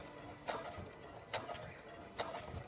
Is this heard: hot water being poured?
no